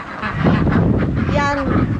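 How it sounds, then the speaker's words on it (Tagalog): Pet chickens and ducks in a backyard coop give loud, close honking and quacking calls over steady outdoor noise. "kamustahin lang natin ang ating mga alagang manok at bibe"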